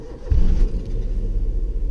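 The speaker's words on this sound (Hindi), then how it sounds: "तो ये मेरी गाड़ी अभी स्टार्ट हो चुकी है।" A car engine cranks and catches, with a loud low burst as it fires and then settles into a steady idle rumble. The car is parked in neutral with the handbrake pulled.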